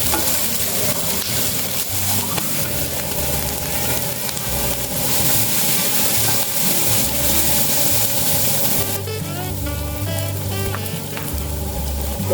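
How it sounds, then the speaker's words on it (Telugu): Onion pieces fry in a pan over a high flame with a loud, steady sizzle and crackle, close up, with stirring scrapes mixed in. "స్టవ్ హై ఫ్లేమ్లోనే పెట్టుకోండి. తర్వాత ఉల్లిపాయ ముక్కలు వేసేసుకుందాం."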